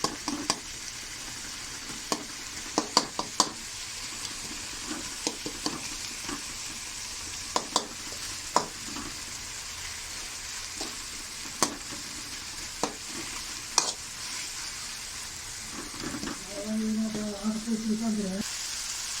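Salted tomatoes sauté in a single pan for a home-style mushroom gravy, giving a steady low sizzle broken by sharp spoon taps and scrapes. Toward the end a voice briefly speaks over the frying.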